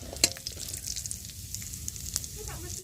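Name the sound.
cashews frying in oil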